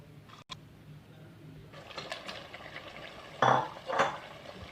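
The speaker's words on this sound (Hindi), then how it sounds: "और अब हम इसमें चिकन के पीसेस डालेंगे अपने" Chicken pieces tipped into a hot pan for chicken nihari, a soft background hiss followed by a burst of louder sizzling and clattering near the end, close by and with no talking.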